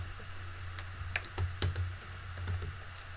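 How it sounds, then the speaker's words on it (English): Scattered keystrokes on a computer keyboard as a username is entered into a login box, a few quiet irregular taps over a low steady hum, with no talking. "I'm going to type it in the box here."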